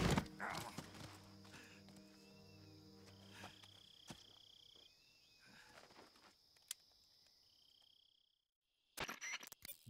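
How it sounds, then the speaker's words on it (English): Horse hooves clip-clop in the Metal Gear Solid 3 video game, a steady rhythmic trot under ambient insect and frog chirps, with a brief whinny-like sound and game effects before a near-silent gap and a final burst. "That is a horse."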